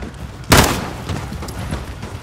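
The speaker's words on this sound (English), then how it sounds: "The gunshots, of course." A single sharp, loud gunshot blast in the video game Call of Duty Modern Warfare campaign, with a brief decaying tail and some fainter pops after it.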